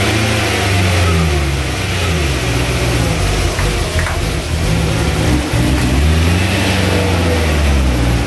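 A BMW 730i V8 runs with a new mass airflow sensor fitted, its engine close and loud, rising and falling through repeated revs over a steady rumble, with no voices.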